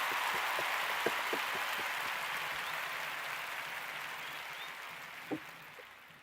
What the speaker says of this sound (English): Round of applause for Big Dre if we haven't done so already.